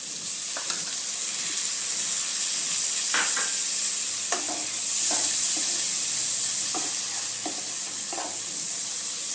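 Chopped tomato drops into a pan of frying masala spiced with Kashmiri chilli powder, hissing in a steady close sizzle while a spoon scrapes and stirs in several distinct strokes, with no voices.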